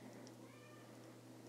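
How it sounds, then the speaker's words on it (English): A pet cat meows faintly somewhere in the room, giving one soft, drawn-out call behind a low steady hum. "sorry if you can hear my cat meowing in the background."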